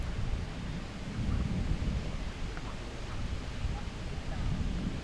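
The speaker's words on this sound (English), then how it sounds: "The wind's coming over my back, so she's the right side of the wind." Wind blowing outdoors, buffeting the microphone in a steady, rumbling low roar with gusts that swell and ease throughout, close and fairly loud, with no talk.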